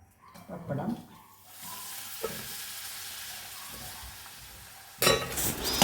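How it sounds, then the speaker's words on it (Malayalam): Papadam drops into hot coconut oil and fries with a soft steady sizzle, framed by a spoon stirring at the start and a sudden louder burst of crackling frying near the end. "വെളിച്ചെണ്ണ ചൂടായി. ആദ്യം പപ്പടം ഇടാം."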